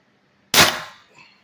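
A single sharp airgun shot from an M17 fitted with a Chinese bolt spring and powered by a Ninja HPA tank at 1100 psi output, loud and close, with a short ringing decay and no talk.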